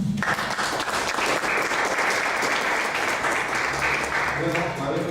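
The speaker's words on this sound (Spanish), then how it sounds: "Vamos a recibir entonces a Mabel con un aplauso." An audience gives sustained, dense applause in a hall to welcome someone speaker at a political training school event, steady and loud across the whole stretch with a low background murmur.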